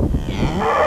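A cow on free-range farm pasture gives a loud, close moo, a short sustained low bellow that rises slightly in pitch at the end.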